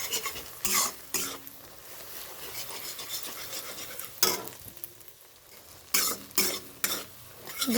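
Eggs fry in a pan for egg chowmein, a low sizzle under bursts of spatula scraping and clattering against the metal, near and without talk.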